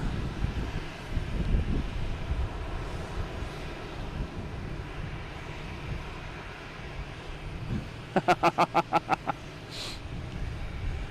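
A Boeing 747 airliner at Boston Logan Airport gives off a steady, distant engine rumble, with a quick run of sharp beeps cutting through near the end.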